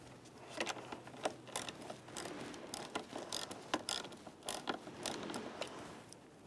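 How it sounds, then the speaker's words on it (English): Quiet, close ratchet clicks come in short rhythmic strokes as a 10mm nut is tightened on the negative battery cable terminal of a 2004-2015 Nissan Titan. "At that point, you can continue by tightening up your 10mm nut."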